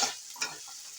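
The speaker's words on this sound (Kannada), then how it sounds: "ಹಾಗೆ ಫ್ರೈ ಮಾಡ್ತಾ ಇರಬೇಕು" A short burst of frying in a pan, with a hissing sizzle and two quick stirring scrapes that fade within a second.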